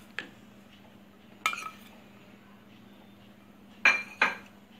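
A utensil clinks against a bowl while urad dal flour is mixed with spices: a few sharp, separate metal-on-bowl taps, one early, one mid-clip and a close pair near the end, in an otherwise quiet kitchen.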